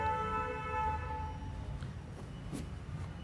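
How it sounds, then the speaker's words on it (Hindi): A vehicle horn sounds steadily from outside for about a second, then fades into traffic noise with a brief faint honk later. "सॉरी थोड़ा हॉर्न वगैरह की आवाज़ आ जाती है"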